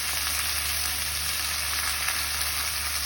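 Potatoes sauté in a pan for a mung bean and potato dish, giving a steady, close, even sizzle that carries through with no talking.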